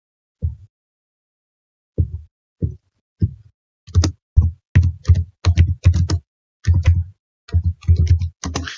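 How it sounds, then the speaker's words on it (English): Bursts of clicking keys, tapped in uneven clusters with short pauses, fairly close and with no voices. "Yeah, I can hear you typing."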